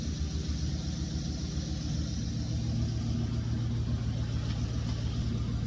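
A 1999–2004 Ford Mustang GT engine idles steadily nearby to run fuel out of the lines, a loud, continuous low rumble with no pauses or revving.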